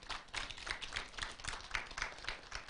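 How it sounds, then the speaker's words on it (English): Steady clapping from an audience at a women's fellowship induction and award ceremony, a moderate patter of many hands sustained throughout without other sounds standing out. "Please, can you clap for yourself?"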